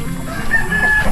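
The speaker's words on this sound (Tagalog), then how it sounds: "may manok sila, may bibi" Chickens clucking at a Philippine home where ducks are also kept, a steady close-range clucking with a rooster-like crow note running through the short stretch.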